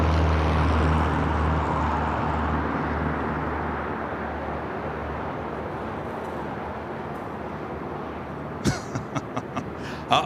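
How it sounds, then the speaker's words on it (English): A United Dreamliner rolls down runway 25 right at LAX, a broad steady jet rumble that slowly fades, followed by a few sharp knocks near the end. "we do have that United Dreamliner now rolling down 25 right"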